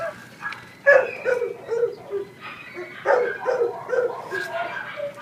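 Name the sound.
shelter dog barking and whimpering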